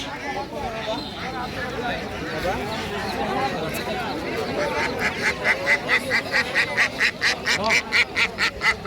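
Ducks quacking at a wholesale duck stall in a rural Bangladeshi market, faint at first under busy crowd chatter, then a loud rapid run of repeated quacks close by in the second half as people talk around them.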